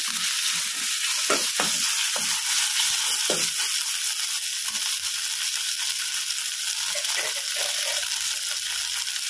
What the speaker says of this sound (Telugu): అల్లం వెల్లుల్లి పేస్ట్లో కొంచెం పచ్చివాసన పోయేంత వరకు వేయించుకొని